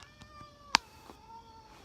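A cat meows softly indoors, a few faint tonal cries around one sharp short sound, quiet and close.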